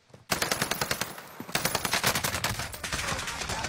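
Bursts of rapid automatic gunfire in a video game, loud and close, a long rattling string of shots after a brief pause, repeated fast and steady.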